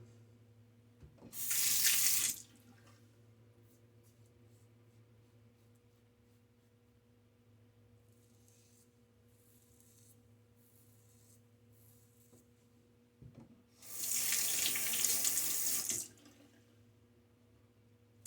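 Tap water running into a bathroom sink to rinse a razor while shaving, two loud close bursts of flowing water separated by a long quiet stretch with a low hum.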